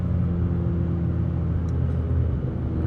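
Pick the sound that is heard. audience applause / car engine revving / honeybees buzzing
car engine revving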